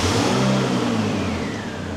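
A Mini John Cooper Works, fitted with the 210 kit, revs in one loud, close rise that falls away over about two seconds. The rasp is steady, with no voices.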